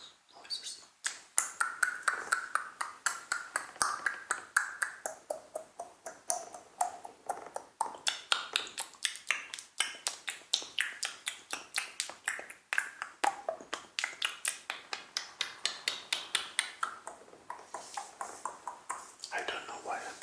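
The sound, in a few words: ASMR mouth noises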